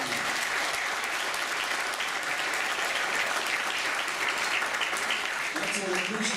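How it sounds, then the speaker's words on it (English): Audience at a charity toy-drive show applauding, a dense continuous burst of clapping that stays loud throughout, with a voice briefly audible near the end. "Let's give the Major some major applause."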